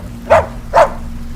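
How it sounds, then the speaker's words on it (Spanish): Two sharp dog barks about half a second apart, fairly close, over a low steady hum. "Ladró de nuevo y luego gruñó."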